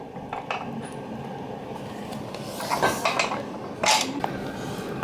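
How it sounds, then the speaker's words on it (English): Metal bolts and washers being handled during assembly of a Gold's Gym XRS 20 home gym, producing a series of small, close metallic clinks and light rattles. "Put the washer on the bolt. Make sure these 2 holes are lined up."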